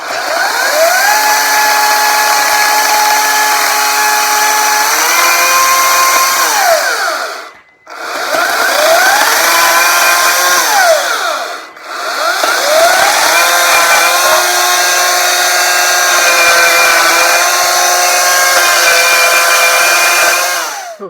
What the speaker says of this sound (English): holding on to a piece of wood that I'm now going to chainsaw.